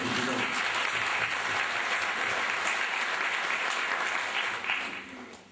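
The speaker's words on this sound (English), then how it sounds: "Give a big clap to the principal." Sustained audience applause fills a meditation discourse hall as the principal is called to stand, a dense steady wash of many hands clapping that fades slightly at the end.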